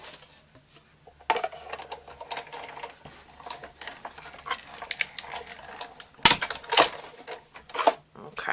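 Framelits dies cutting Pool Party cardstock for a large paper label in a die-cutting machine: a steady mechanical whirring and clattering of the crank runs throughout, with a louder clunk partway through and a faint underlying hum.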